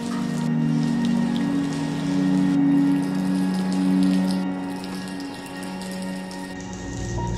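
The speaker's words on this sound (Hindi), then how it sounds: "जैसे बारिश हो रही है" Steady rain falls on a monsoon day before a motorcycle ride to Amboli on a Yamaha R15, a continuous hiss with a low engine-like hum underneath, fairly loud and close throughout.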